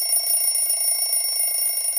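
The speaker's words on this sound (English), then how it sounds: "The alarm goes off, but James is already up." An alarm clock rings in the morning with a steady, continuous high-pitched electronic tone that stays loud and unbroken throughout, with no talking.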